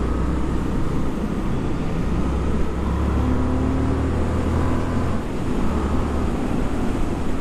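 A motorcycle engine roars continuously at close range, a loud, steady rumble that builds slightly as it accelerates.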